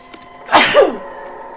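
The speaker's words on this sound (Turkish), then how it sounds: "Hapşıracağım." A single close, loud human sneeze, a sharp burst that rises and then trails off within about half a second over quiet background hum.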